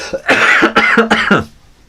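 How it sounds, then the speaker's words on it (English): A close, loud burst of three or four harsh coughs in quick succession, then quiet. "cough into the sleeve"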